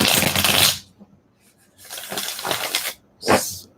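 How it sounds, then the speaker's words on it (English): A deck of tarot cards is shuffled by hand in three close, crisp bursts of riffling and sliding, separated by short quiet pauses. "I'm going to shuffle them"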